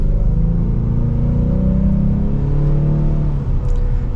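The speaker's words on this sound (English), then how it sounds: "it is a pretty peppy 4-cylinder engine." A four-cylinder EcoBoost engine in a 2024 Ford Mustang with a six-speed gearbox pulls steadily and loudly, a continuous close drone holding through the whole stretch with slowly shifting tones and no talk.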